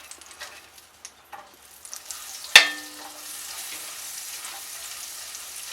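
Butter dropped into the same hot pan just used to sear a steak bursts into a sudden sharp sizzle, then settles into a steady, quieter frying hiss.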